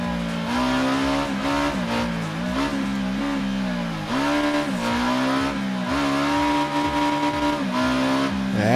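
A Ducati Diavel motorcycle engine revs repeatedly in loud close bursts, its pitch climbing and dropping between throttle blips, heard alone and continuously.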